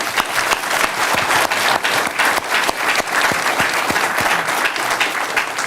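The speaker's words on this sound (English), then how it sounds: "Please join me in a final round of applause for our guests." Sustained audience applause at the close of an academic panel event with guests, dense and steady throughout with individual claps popping out of the wash.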